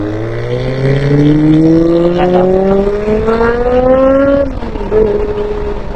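Three-cylinder car engine revving up steadily, its rising whine climbing in pitch for about four seconds before dropping back to a lower idle, loud and close with no talking.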